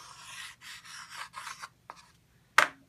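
Chalk writing on a seasoned chalkboard: a series of short, close, scratchy strokes in a steady rhythm, then a few separate taps and one sharper stroke at the end, with no talking.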